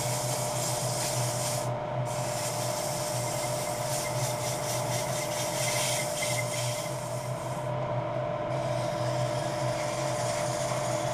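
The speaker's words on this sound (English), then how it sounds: "That's 320 grit sandpaper." A tiny wooden toothpick holder spinning on a lathe is sanded with 320 grit sandpaper, giving a continuous close rubbing hiss over a steady motor hum, with slight swells as the pressure shifts.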